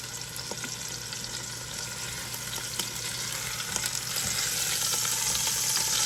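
Meat for a French dip sandwich sizzles loudly and continuously in a hot pan as it crusts, a bright crackling hiss that swells slightly toward the end.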